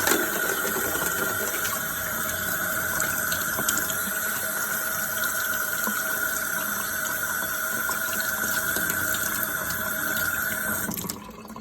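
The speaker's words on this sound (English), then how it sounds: "I'm going to rinse the plate off too." Tap water running steadily into a sink as a plate is rinsed, a continuous close hiss that stops abruptly near the end, with no talking.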